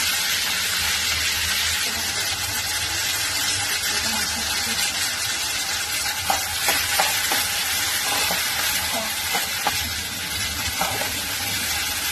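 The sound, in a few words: onion and curry leaves frying in oil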